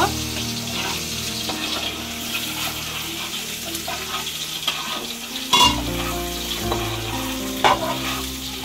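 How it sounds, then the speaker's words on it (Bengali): An egg frying in a pan, with steady close sizzling and crackling of hot oil throughout and a couple of brief louder spatters or clinks, no talking. "ডিমটা ভেজে দিব"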